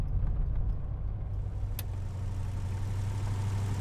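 Aston Martin DBS V8 running as the car pulls over, a steady low engine drone throughout with one brief sharp click partway through.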